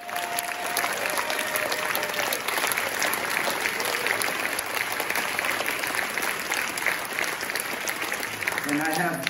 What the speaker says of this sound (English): a big warm round of applause and standing ovation for Art Cribs